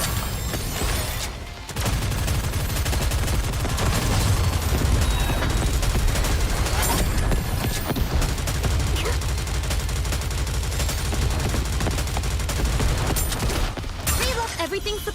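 Heavy cannon fire from the Aegis cannon in the NIKKE video game: dense, continuous booming volleys with crashing bursts, loud and sustained for most of the stretch, with a brief pause early on.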